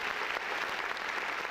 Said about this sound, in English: We got some applause for you.